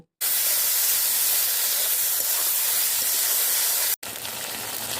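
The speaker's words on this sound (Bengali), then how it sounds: "তারপর মশলা থেকে যতক্ষণ না পর্যন্ত তেল ছাড়ছে ততক্ষণ অবধি আমরা এই মশলাগুলোকে কষাতে থাকব।" Spices and dried fish fry in oil in a village-style Bengali kitchen, giving a loud, steady broadband sizzle that runs nearly unbroken, cuts out briefly, then carries on slightly softer.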